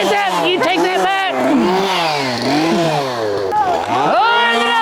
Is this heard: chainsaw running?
yes